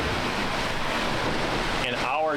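Rough open sea rushes around a sailboat, a loud, continuous roar of waves and wind noise, with a brief voice-like sound near the end.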